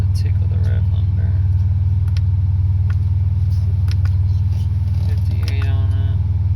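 A Pontiac Grand Prix GTP with a 3-inch downpipe and swapped supercharger pulleys holds a steady, loud, rough engine drone close by, a deep rumbling idle-to-rev tone, with a person talking over it.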